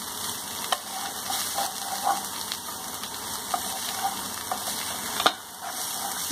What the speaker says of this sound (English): Mix it nicely.